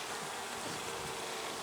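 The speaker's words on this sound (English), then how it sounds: "There's still nurse bees all over that brood." Honey bees buzz over a brood frame in an open hive, a soft, even, continuous hum with no voices.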